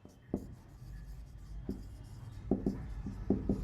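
Pen or marker writing on a board during a maths lesson, with scattered short scratchy strokes in irregular bursts, fairly close and moderately quiet, with no talking.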